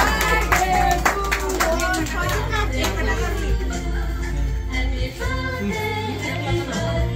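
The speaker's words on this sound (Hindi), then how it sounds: "तालियां बच्चों। तालियां बजा दो।" Children and family clapping at a home birthday party, rapid uneven claps up close mixed with chatter and background music.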